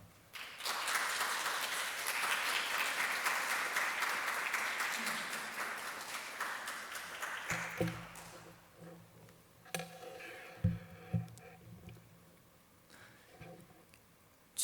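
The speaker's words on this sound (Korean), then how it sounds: "우리 목사님 나오실 때 환영의 박수로 우리 뜨겁게 박수해 주시기" A church congregation at a Wednesday service claps in warm welcome for the pastor, with dense sustained applause for several seconds that thins into scattered claps and faint room noise.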